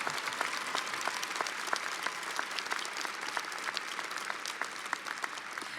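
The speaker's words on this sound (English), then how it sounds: "could you please give a big round of applause to everybody who helped you get here" A graduation crowd at the University of Louisville breaks into sustained applause, with many hands clapping in a steady, fairly distant roar throughout.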